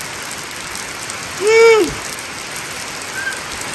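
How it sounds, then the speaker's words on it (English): Rain falls steadily in a constant hiss around an old 1989 Chevy Silverado OBS truck, while a man briefly whoops over it. "Hope y'all can hear me, but it is raining."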